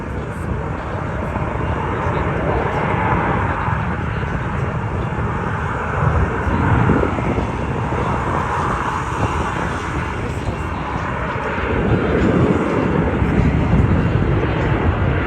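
A low, steady roar from an airplane passing directly overhead at the Oshkosh AirVenture air show, loud and sustained for the whole span, swelling slightly toward the end.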